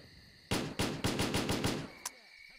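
Gunfire from a weapon in S.T.A.L.K.E.R.: Clear Sky comes as a loud burst of about eight rapid shots, then one separate shot after a short pause.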